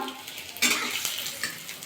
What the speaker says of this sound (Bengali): একটু ভাজা ভাজা করে নেবো তিলটা